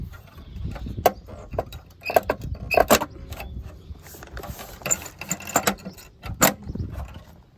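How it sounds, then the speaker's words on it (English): A Tesla aero hubcap is forced and pulled off an alloy wheel, giving scattered plastic clicks, snaps and rattles close by, with a few sharper cracks amid quiet handling noise. "I'll give it quite a lot of force. Push that, pull the cap away."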